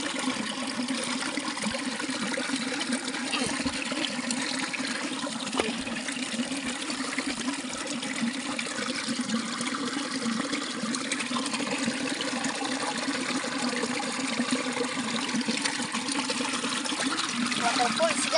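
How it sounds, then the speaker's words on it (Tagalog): A small mountain waterfall pours in a constant rushing splash of water, loud and close, with a steady hiss that continues unbroken throughout. "Waterfalls guys, maliit na waterfalls guys, malamig."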